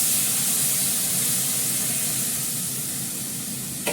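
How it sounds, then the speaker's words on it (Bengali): Hot water poured into a cooking pan of frying fish, giving a loud, steady broadband hiss of steam and spray that runs unbroken for a few seconds. "অল্প করে গরম জল দিলাম"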